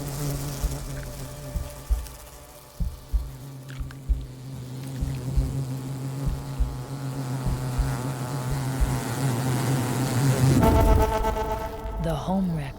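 A wasp buzzes around its nest, a continuous droning hum with pulsing taps early on, growing louder and closer toward the end, heard beneath a narrating voice.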